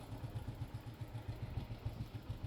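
A Hero Honda motorcycle engine idles after an oil change with a faint, low, evenly pulsing putter at a steady rhythm.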